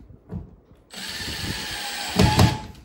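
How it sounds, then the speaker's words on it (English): Power drill driving screws into a drywall patch over a hole: a steady, loud motor whine starts about a second in and runs continuously, swelling briefly near the end as the screw seats. No talking. "So you want those screws to go down into the drywall a bit so you can fill them in."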